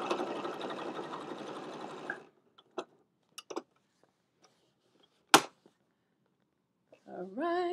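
Sewing machine quilting a foam and fabric basket, a close, steady mechanical whir for about two seconds, then silence broken by a few clicks and taps, with a voice speaking briefly at the end.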